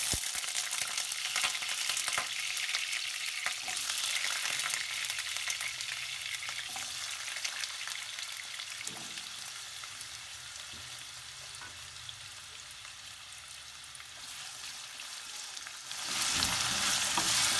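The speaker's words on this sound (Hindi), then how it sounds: "तेल गरम हो गए हैं, तो आलू जे काट के धो के ल लेने छे से आलू में खसा देबे" Cut potatoes fry in hot mustard oil in an iron pan, giving a continuous hissing sizzle that starts loud, settles lower, and then surges again near the end, with no talk over it.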